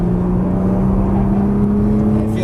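Nissan GT-R engine pulling hard under acceleration on a racetrack, a loud steady drone with a rising tone, heard continuously and close without talk.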